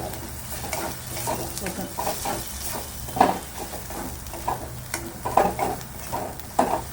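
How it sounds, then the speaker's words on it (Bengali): Turmeric and cumin powder stirred into oil in a frying pan while making aloo paratha filling: a soft continuous sizzle with repeated scraping strokes of a spoon, a few sharper clinks of utensil against the pan. "তারপরে দিচ্ছি একটু জিরে গুঁড়ো দিয়ে এটা ভালো করে মিশিয়ে নেব"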